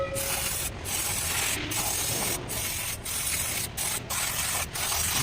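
Brake cleaner sprayed onto the brakes of a 2023 Toyota Fortuner, a loud continuous hiss broken by several brief pauses between bursts, close up.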